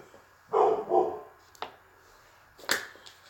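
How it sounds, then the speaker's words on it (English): A dog barks in a couple of close, sharp bursts early on, followed by a few scattered fainter yips and knocks, with no talk over it. "My dog's always barking."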